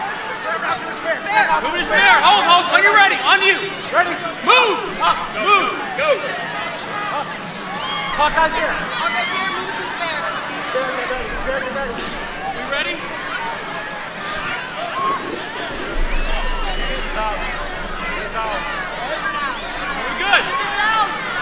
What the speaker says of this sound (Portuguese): Convulsão total, gente gritando.